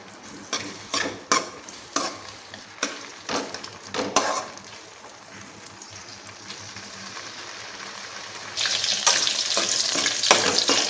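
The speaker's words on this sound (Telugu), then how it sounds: "ముందుగా స్టవ్ వెలిగించి పచ్చిమిరపకాయలు కడిగేసి బాండీ పెట్టి మిరపకాయలు వేపుకుందామండి." Green chillies frying in oil in a kadai pan, a run of sharp spatters and pops in the first half, then a quieter stretch before a louder, steady sizzle takes over near the end, close and without voices.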